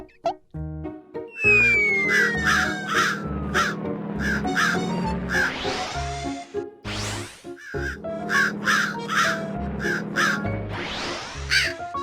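A crow caws repeatedly in a rhythmic series of loud, harsh calls, coming in clusters with short pauses between them, close and clear against a quiet background.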